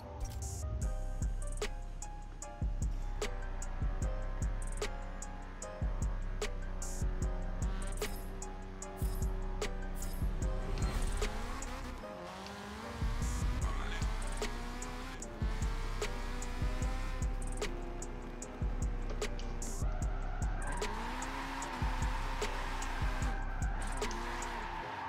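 Engine of a Nissan SR20-powered S15 Silvia in a racing game, revving and droning through repeated gear changes, with the pitch rising and dropping in cycles and brief cuts between shifts, steady and loud throughout.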